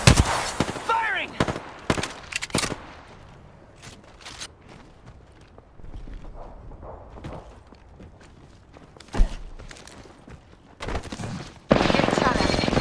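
Gunfire in the game Apex Legends: several sharp bursts of shots near the start, another loud crack partway through and a dense burst of firing at the end, with quieter footsteps and game noise between them and a voice talking at times.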